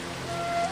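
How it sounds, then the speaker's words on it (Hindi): Rain falls steadily in a cartoon scene where a pigeon waits out a storm, giving a brief, even patter that fills the whole moment, with a faint tonal hum running through it. "बंटी कबूतर बारिश रुकने का इंतजार करता है।"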